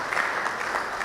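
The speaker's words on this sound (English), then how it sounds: "Let's clap for ourselves in appreciation of" Audience clapping in appreciation at a Baptist Academy alumni master class gathering, a steady dense patter of many hands filling the whole moment at moderate loudness.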